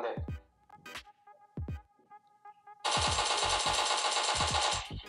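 Automatic gunfire from a gun in the PUBG Mobile video game, a loud sustained burst of rapid shots after a few scattered single cracks and quieter game effects.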